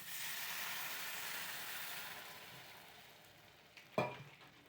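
Frying masala for noodles in a pan hisses and sizzles steadily, fading somewhat before a brief sharp splash and burst of sizzle as water is poured in, faint and close.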